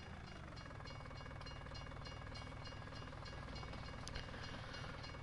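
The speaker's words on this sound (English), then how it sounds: "Well, I'm gonna have to stop for the train." A train in Farming Simulator 19 rolls past with a continuous rumbling, rhythmic clatter of rail cars at steady loudness, with no voices over it.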